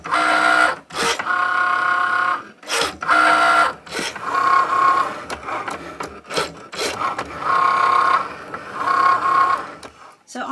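A cutting machine drives a double scoring wheel, held in clamp B, across paper on a mat. Its motor whirs steadily in repeated back-and-forth passes, each broken by brief pauses, loud and close, with no voices.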